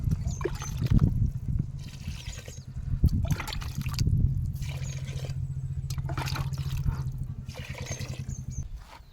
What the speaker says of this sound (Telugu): నాలుగు గ్లాసు వాటర్ వేసుకోవాలా